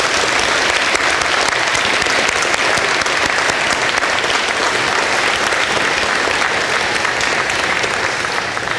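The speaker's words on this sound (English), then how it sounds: "I now present the new members of the National Honor Society for a round of applause" A school auditorium audience at a National Honor Society induction ceremony claps loudly and continuously for the new members, a dense even roar of applause.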